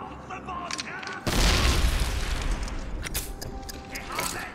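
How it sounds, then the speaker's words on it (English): Heavy explosions in the World War II shooter Medal of Honor Airborne, a sudden deep boom at about a second in with rumbling debris fading after, amid ongoing gunfire and battle noise, with a player's voice talking over it. "Oh god, the explosions. The explosives in there."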